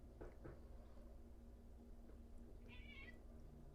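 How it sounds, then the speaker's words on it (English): A house cat in a home kitchen gives one short, thin meow late on. It is faint and somewhat distant over a low, steady background hum, with no talking. "And I have a cat meowing at me."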